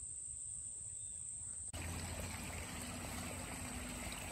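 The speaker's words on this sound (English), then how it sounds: "I just wanted to show you this beautiful creek." A small creek flowing in a green, quiet natural setting, a soft continuous trickle and rush that steps up abruptly partway through and then stays steady and faint.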